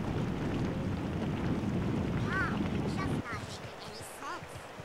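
Rain falls in the video game Raze's Hell as a steady, soft hiss that thins out partway through, with a voice talking over it.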